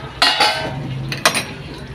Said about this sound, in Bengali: এবার আমি ঢাকাটা খুলে দেখে নেব।